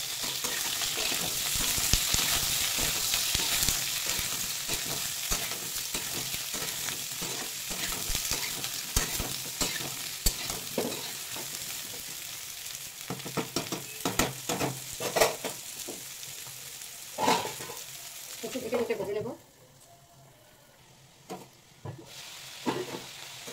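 Potatoes and bottle gourd frying in hot ghee, a loud dense sizzle with repeated scraping stirs up close, thinning into scattered spatula knocks and softer crackle as it fades toward the end, no speech.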